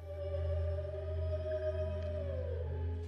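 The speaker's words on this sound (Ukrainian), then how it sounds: "видають ну дуже своєрідні звуки, схожі на пісні китів" Low, sustained tonal moans with slowly gliding pitch from musicians playing instruments underwater, eerie and whale-like, over a steady deep drone, continuous for a few seconds.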